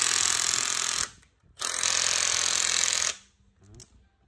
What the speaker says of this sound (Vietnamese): Ở con này nó 18 V, mình sẽ test búa luôn ha.